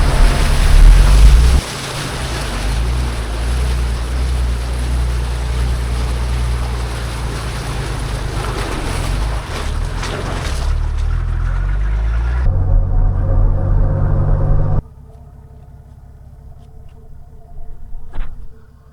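A vehicle fording the Little Towns River on an outback track near Port Roper, with loud rushing water and engine rumble for most of the crossing, then quieter idling and a few knocks once through.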